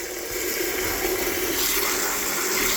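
Water runs steadily from a kitchen tap to rinse chopped vegetables, a continuous close splashing hiss with no voices.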